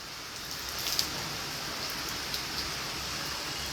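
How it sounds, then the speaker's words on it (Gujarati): Steady rain falls during a thunderstorm in Halvad town, a dense even hiss of drops on surfaces with a few faint patters, moderately loud throughout with no voices and no audible thunder. "હળવદ શહેરમાં તો ગાજવીજ સાથે વરસાદ જે તમે જોઈ રહ્યા છો એ વરસી રહ્યો છે"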